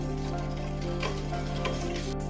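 Steady, dense bubbling and sizzling of sugar syrup boiling hard in a pan, close and continuous, with faint stirring ticks.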